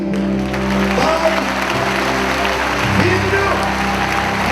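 A church congregation applauds together at a Christian family congress, steady broad clapping filling the room beneath continuous sustained music and voices, loud and unbroken throughout.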